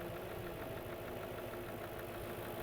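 The 4.2-liter V8 in a 2004 Audi S4 Quattro sedan idles with a steady, low, even rumble, heard faintly and alone with no voices.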